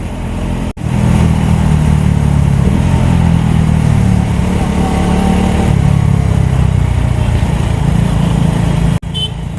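Husqvarna Vitpilen 250 single-cylinder motorcycle engine heard from the rider's position on a night ride through city traffic, a loud, steady droning rumble with wind noise that runs continuously for several seconds.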